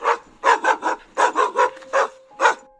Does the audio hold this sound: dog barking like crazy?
yes